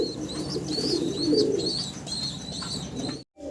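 A pair of Afsan grizzle racing pigeons coo in a low, steady murmur while small birds chirp faintly in the background, ending with a brief moment of silence.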